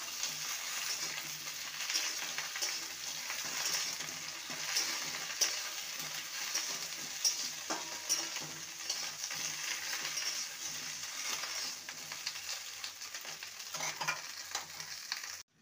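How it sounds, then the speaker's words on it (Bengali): Okra and potatoes fry in a wok, a continuous bright sizzle with scattered stirring scrapes and clicks running steadily throughout, close and without talk. "ভেন্ডিকেও আলুর সাথে 2 মিনিট ভেজে নেব"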